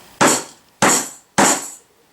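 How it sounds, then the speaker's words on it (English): A rubber hammer taps wooden beehive box parts into place: three sharp, evenly spaced blows, each ringing briefly before dying away, close and clear with no talking. "So the handy rubber hammer"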